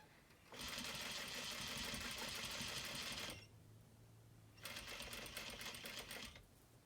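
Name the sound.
sewing machine stitching fabric, starting with back stitches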